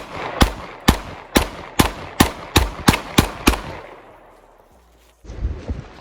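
Nine loud, sharp gunshots from a Glock 19 pistol and a 5.56 AR pistol fired outdoors ring out in a steady, evenly spaced string over about three seconds, then a fading echo, a near-silent pause and a short rustling burst.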